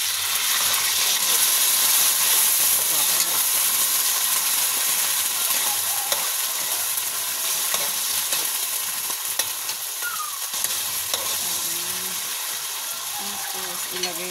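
Sardines sizzle steadily while being sautéed in a pan for a vegetable dish with clams, with a dense continuous frying hiss and occasional stirring clinks throughout.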